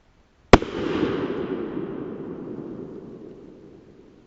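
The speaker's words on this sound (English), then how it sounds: "we're going to be shooting a 240 grain jacketed soft point from a Smith & Wesson Model 629 44 Magnum" A single loud, close gunshot from a Smith & Wesson Model 629 .44 Magnum revolver firing a 240 grain jacketed soft point into a concrete block, a sharp crack followed by a long booming outdoor echo that slowly fades.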